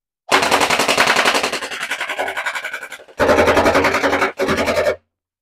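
A gel blaster fitted with a pressure-spring drum magazine fires on full auto in three rapid buzzing bursts, a long one followed by two shorter ones, loud and close with no talking.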